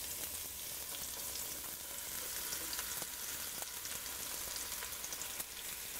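Zucchini noodles sizzling and frying steadily in a hot pan, a continuous close crackling hiss with small pops, no talking.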